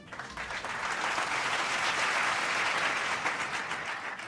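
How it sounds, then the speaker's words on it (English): A seated audience at a years-of-service recognition ceremony applauds steadily for several seconds, a dense, even wash of many hands clapping with no talk over it. "Let's give Pam a round of applause for her 20 years of service."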